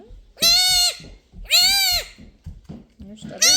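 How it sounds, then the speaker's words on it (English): Nigerian Dwarf baby goats bleat twice in long, loud, wavering cries close by, with a third call starting at the end, and quieter voices murmur between the calls. "that's a mother baby goat"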